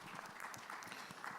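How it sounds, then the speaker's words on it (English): Applause from a summit audience, a steady low wash of many hands clapping at a distance, faint and even, with a brief surge near the end. "a round of applause for him once more"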